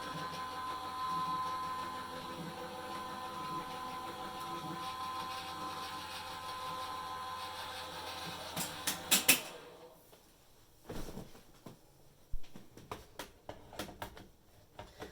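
A Couture Creations Go Press n Foil hot foiling machine runs with a steady, fairly loud mechanical whir and hum for about nine seconds, then stops abruptly, leaving quiet handling clicks and knocks.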